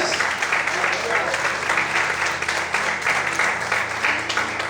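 A church congregation applauds steadily during a morning service, the clapping continuing throughout at an even level.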